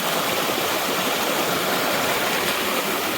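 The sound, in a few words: river flowing at a river crossing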